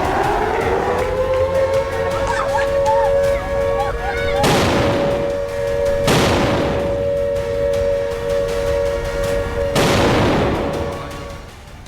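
Air raid sirens wail over Tel Aviv during an Iranian ballistic missile attack: a steady sustained tone with harmonics, broken by three loud, sharp booms at spaced intervals.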